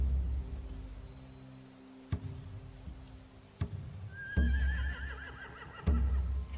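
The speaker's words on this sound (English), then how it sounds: "If we cut those horses free," Horses neighing in The Walking Dead: The Final Season video game, with a long wavering whinny rising over low rumbling ambience and sharp stamping thumps.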